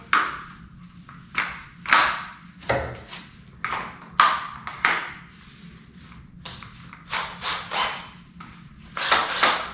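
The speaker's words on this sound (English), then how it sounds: "So you're gonna use a power tool." Repeated whooshing, scraping strokes of a rotary power brush against a ski base, worked tip to tail, about a dozen bursts in an uneven rhythm, close and fairly loud.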